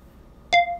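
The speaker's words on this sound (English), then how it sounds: "what was that beep?" A short electronic beep from a signal in a Lego stop-motion space show set on Mars, a single clean tone lasting about a quarter second, moderately loud against a quiet background.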